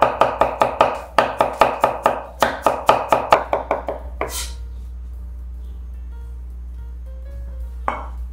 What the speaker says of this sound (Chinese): 再切末